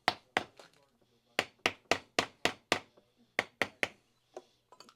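A bearing being tapped into a micro cruiser trailer hub: sharp, close metallic taps in quick bursts of three or four, with short pauses between groups.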